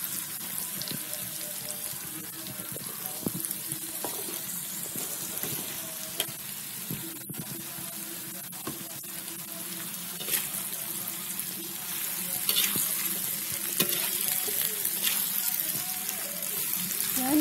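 Chopped jackfruit goes into a pan with red beans and is stirred, giving steady sizzling and scraping with occasional clinks, moderately close.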